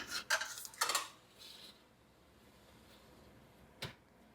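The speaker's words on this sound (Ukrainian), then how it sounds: "Я ставлю деко на середній рівень." A metal baking tray of plums slides into a preheated convection oven, giving two sharp clanks and a rattle, then a quiet pause and one last metallic knock, with no voices.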